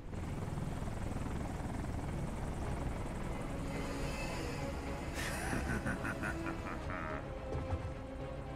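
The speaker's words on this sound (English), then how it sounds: "Oh, it's just the helicopter." Helicopter in the video game Metal Gear Rising, a steady rotor drone running throughout, overlaid by busy game effects and bursts of bright clatter in the second half.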